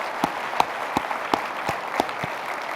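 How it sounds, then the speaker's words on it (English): Convention audience at the AEA 2018 opening session applauding the staff and volunteers, with evenly spaced, distinct claps in a steady rhythm that sound fairly faint and a little distant. "Another round of applause, please."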